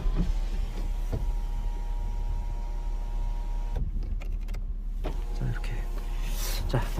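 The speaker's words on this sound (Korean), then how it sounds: "썬루프가 이렇게 작동이 잘 되고 있고요" A Lexus IS250 sunroof motor runs with a steady electric whine and hum inside the car, stopping briefly and then starting again, close and moderately loud, with someone speaking faintly over it.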